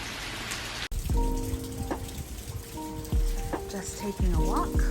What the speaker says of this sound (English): I'm listening to the rain.